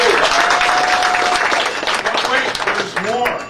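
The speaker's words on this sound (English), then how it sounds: "quick round of applause for Trent" An audience breaks into a brief burst of applause that fades toward the end, with voices speaking over the clapping.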